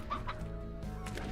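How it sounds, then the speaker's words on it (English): A chicken in the video game Slime Rancher clucks in a few quick, close bursts, with a soft rustling backdrop and no talking. "Chicken, you're safer with me."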